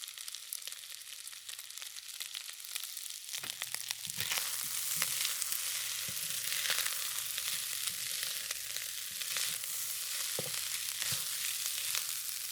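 Seafood fried rice sizzling and frying in a hot wok, a steady loud crackle with occasional stirring scrapes and clanks, no talking.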